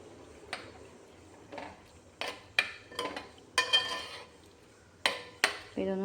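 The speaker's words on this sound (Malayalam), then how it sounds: "സ്പൂൺ കൊണ്ടൊന്ന് ചെറുതായിട്ട് ഇങ്ങനെ ഇളക്കി കൊടുക്കുക." A spoon gently stirring a pot of Kerala-style shrimp and raw mango curry, about nine separate metallic clinks and scrapes against the pot at uneven intervals, close and crisp over a quiet background.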